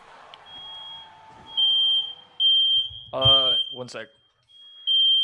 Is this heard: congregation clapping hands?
no